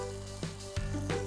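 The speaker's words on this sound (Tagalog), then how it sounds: "habang medyo binabrown natin yung ating kamote at carrots" Sweet potato and carrot pieces brown in a pan with a continuous close sizzle, broken by a couple of quick stirring clatters, over faint background music.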